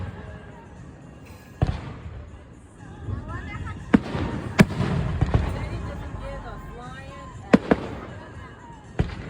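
Fourth of July fireworks show in Harrison, Idaho: sharp booms and crackling bursts go off at irregular intervals, some close and loud, while people chatter and exclaim throughout.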